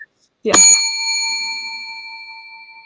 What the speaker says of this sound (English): listening for the bell